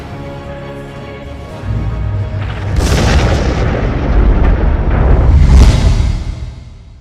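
In the Ace Combat video game, a huge meteor fragment strikes a capital city: a deep, rumbling boom that swells into a long, roaring blast, loud and heavy, with no speech over it.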